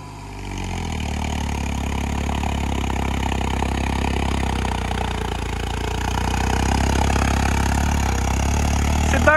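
A Deutz Fahr 70 hp tractor, tilted slightly, keeps its engine running in a steady low rumble with faint clatter, growing gradually louder toward the end.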